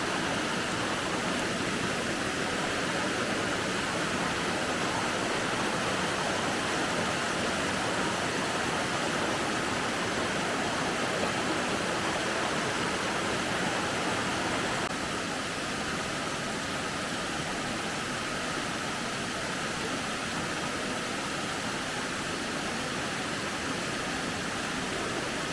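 A waterfall in Cherokee, North Carolina pours with a dense, steady broadband rush, loud and unchanging from start to finish with no voices.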